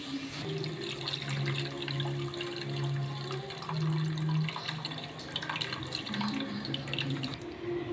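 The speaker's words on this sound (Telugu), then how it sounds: "ఇప్పుడు దీంట్లో ఆ చింతపండు నానబెట్టి పెట్టాను కదా ఆ పులుసు వేసుకుందాం" Soaked tamarind juice pours steadily into a cooking pot for an egg curry, giving a continuous close liquid splash and trickle with no one speaking.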